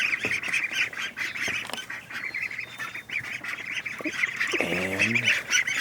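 Ducks quack in a newly built wooden duck coop, a close, busy chorus of overlapping calls with a louder, drawn-out quack near the end.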